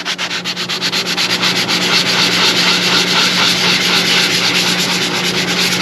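Sanding rasps over a gelcoat repair on a boat hull, a loud steady scrubbing with quick rhythmic circular pulses, close and continuous with no talking.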